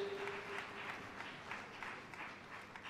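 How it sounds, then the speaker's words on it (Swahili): Audience applause at a formal Tanzanian ceremony, a steady wash of many hands clapping at moderate distance, continuous without any voices. "Naomba tuongeze makofi tafadhali ya pamoja."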